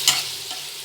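Spoon scraping through fish curry mixture in a pan, one sharp stir at the start over a low simmering sizzle, close and brief.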